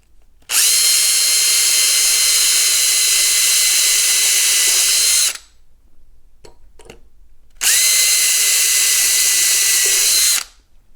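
A power drill boring holes through the plastic shell of a model Sherman tank to mount a heatsink, two loud sustained whining bursts of about five and three seconds separated by a quiet gap with faint clicks.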